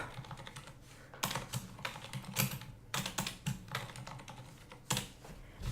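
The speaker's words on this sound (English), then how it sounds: "I'm not typing anything correctly here." Fingers type on a computer keyboard in quick bursts of close, crisp key clicks, with short gaps between flurries and no talking.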